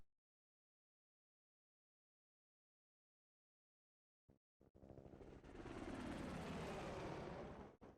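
Helicopters arriving in Combat Mission: Black Sea, a loud, dense rotor-and-engine roar that bursts in after a long silence, with a couple of short thumps first, then a sustained heavy drone growing louder and holding to the end.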